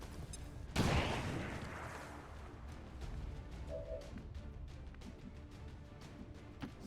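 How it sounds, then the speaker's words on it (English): A single loud blast as a car explodes in XCOM 2: War of the Chosen, followed by a long fading rumble and scattered debris and background game noise. "that car exploded, I guess"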